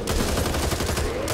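Dense gunfire in the zombie shooter video game Back 4 Blood, a rapid continuous burst of shots lasting just over a second, loud and up close with no voices.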